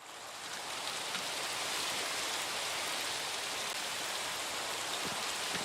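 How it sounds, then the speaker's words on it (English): Steady rain falls in the Minecraft video game, a dense, even hiss that holds at the same level from start to finish with no voices over it. "it's just raining, right?"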